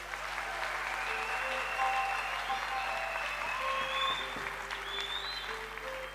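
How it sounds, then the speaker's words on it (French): An audience applauds a guest at an academic graduation ceremony with sustained, even clapping that fills the hall for the whole stretch, close and full, with no voices over it. "adresser un tonnerre d'applaudissements à ce cher frère"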